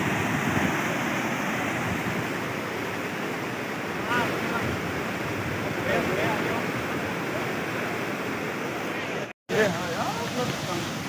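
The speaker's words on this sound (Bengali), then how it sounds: "কি ধুনীয়া পানী বৈ যাই আছে" Water flows in a stream where people are bathing on a warm day, a continuous rushing wash with a brief dropout near the end.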